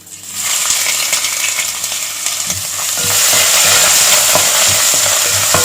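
Crushed ginger, garlic and cardamom sizzle and crackle steadily in a hot pan, a loud continuous frying hiss with occasional stirring clicks, growing a little louder midway.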